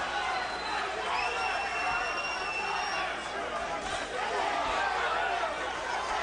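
A boxing crowd at a Michael Moorer versus Vassiliy Jirov fight gives a steady, loud arena roar of chatter and murmuring that rises as Moore attacks, with whistles cutting through. The roar holds continuous throughout.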